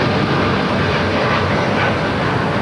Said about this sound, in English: we got the very rare 787-8 Dreamliner with United now taking off